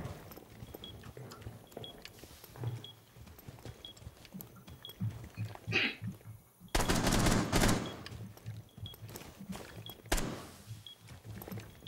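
Gunfire in a multiplayer shooter video game, with bursts of shots echoing through a built-up map. A loud, dense volley lands near the middle and is followed by further scattered shots.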